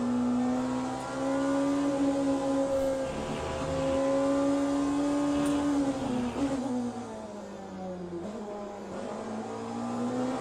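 Race car engine in the racing game Le Mans Ultimate, a loud steady tonal drone that shifts pitch with dips and rises suggesting downshifts, continuous throughout without talk.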